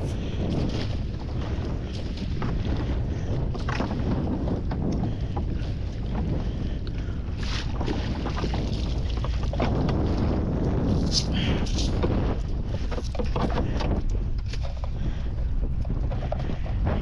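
Strong wind buffets the microphone on a small boat at sea while a trap is hauled in stormy weather, a continuous loud roar with water slapping and gusty surges throughout.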